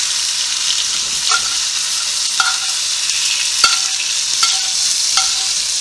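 Venison mince frying in a pan, a constant bright sizzle with several sharp scrapes of a utensil against the metal at irregular intervals, close and loud, with no talking.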